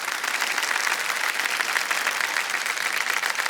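A KBC studio audience breaks into sustained, even applause, a steady mid-level patter of many hands clapping without speech over it.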